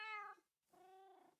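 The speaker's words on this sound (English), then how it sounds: "There's two more cats." Two clear meows from a cat in the Minecraft video game, a longer call followed by a second after a short pause, close and loud with no talk over them.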